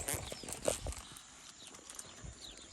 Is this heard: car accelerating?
no